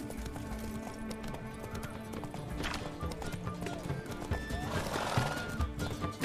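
Horse galloping and neighing in The Witcher 3: Wild Hunt. Steady clip-clop of hooves runs throughout at moderate volume, and a whinny rises near the middle.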